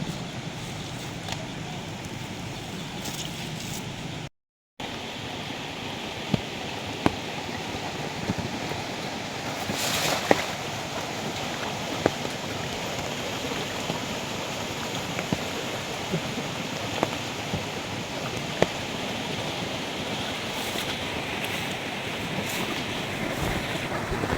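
A strong, swollen small stream rushing after rain, a continuous loud wash of turbulent water with wind-like roar and occasional small splashes, steady throughout with no talking.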